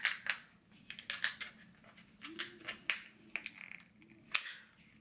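Scissors snipping through a makeup sponge, a series of short, crisp snips at irregular intervals, close up and fairly faint, with no talking.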